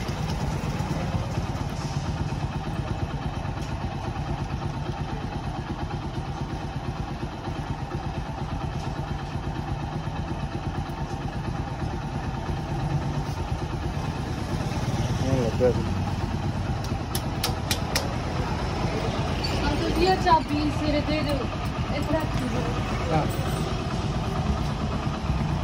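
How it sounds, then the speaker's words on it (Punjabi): A Hero Splendor motorcycle idles during testing after wiring repairs, its engine a steady, close low rumble that holds throughout, with indistinct voices in the background. "ਮਿੱਤਰੋ ਸ਼ਾਮ ਮੋਟਰਸਾਈਕਲ ਆ ਗਿਆ ਮਿਸਤਰੀ ਥੋੜ੍ਹਾ ਟੈਸਟ ਕਰਨ ਗਿਆ ਮੋਟਰਸਾਈਕਲ ਚਲਾ ਕੇ"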